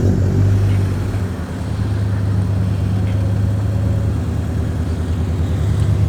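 A widebody Subaru BRZ on air suspension starts up. The engine settles into a steady, loud, low idle rumble with a slight dip early on, heard close with no talking over it.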